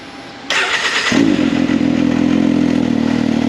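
A rebuilt CanAm X3 Maverick Turbo engine, fitted with a silencer, cranks briefly and then catches, settling into a loud, steady, close idle in a garage, with no talking.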